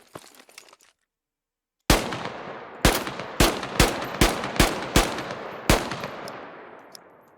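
Rifle fire in the video game Squad, a string of about eight loud, sharp single shots in an uneven rhythm, each followed by a ringing decay, after a brief quiet stretch.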